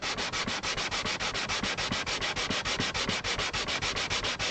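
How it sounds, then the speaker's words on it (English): Steady rhythmic sanding of an acoustic guitar bridge, a gritty rasp repeating in fast even strokes, close and continuous with no talking. "I'm sanding this bridge off actually"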